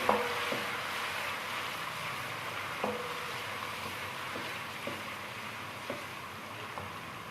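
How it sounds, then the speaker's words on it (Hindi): Garlic and ginger paste frying in a pot for kofta pulao, giving a continuous hissing sizzle with a few sharp spoon clinks against the metal, even and moderately loud, without voices. "अब हम इसको अच्छी तरह से फ्राई करेंगे।"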